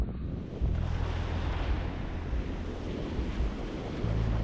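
Ocean surf breaking at Jupiter Beach, Florida, a continuous roar of waves rolling in, mixed with heavy wind buffeting the microphone.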